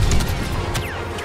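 Grenade explosion in the video game Star Wars Battlefront II, a loud, close, dense blast with crashing debris and a whooshing sweep, filling the short moment with no talking.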